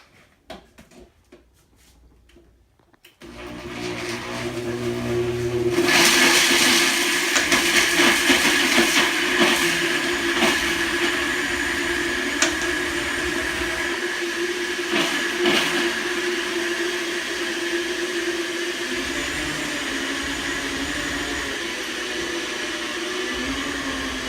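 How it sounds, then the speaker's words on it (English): A small blender whirring as it grinds homemade laundry soap into powder, starting up after a few seconds of quiet, then a loud, steady motor drone with slight fluctuations as the load shifts. "This is the first time we've ever used this little blender for doing this."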